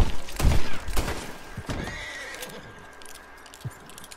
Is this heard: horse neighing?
yes